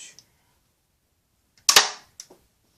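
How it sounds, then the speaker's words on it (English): A knockoff Nerf blaster is rotated, cocked and fired: a faint click, then a loud sharp snapping shot followed by a short mechanical rattle, close and otherwise quiet. "So you just rotate, cock it, and fire."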